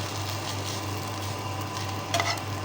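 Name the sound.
stirring sriracha sauce mixture with a spoon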